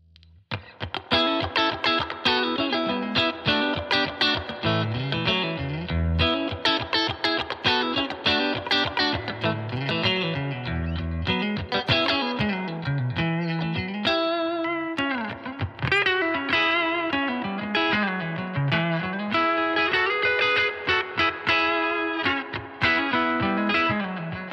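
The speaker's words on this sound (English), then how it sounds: "And here's a Strat played through the Princeton Reverb." A Fender Stratocaster electric guitar through a Fender Princeton Reverb amp plays busy chords and melodic runs with a low walking line, steady and loud, with no talking.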